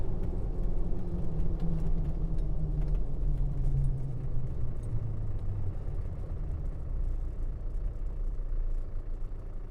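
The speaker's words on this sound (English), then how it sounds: "So just so you can hear how it idles in the cabin." Classic Land Rover Defender 130 idling, heard from inside the cabin: a low, steady rumble with a faint rhythmic throb, continuous and moderately loud without speech.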